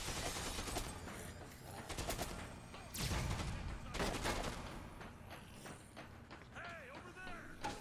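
Enemy gunfire in the video game Dead Rising 2: Case West, bursts of shots and clattering mechanical noises in quick volleys, with a loud crack partway through and voices in between.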